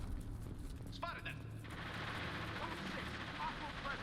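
Gunfire from Krogans in Mass Effect 2, a steady loud wash of battle noise with a short burst of sharper shots around the first second and a half, continuing as a dense roar.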